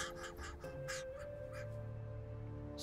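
Crows give several harsh caws in quick succession, fairly close at first, then a softer call or two, over a faint low background hum.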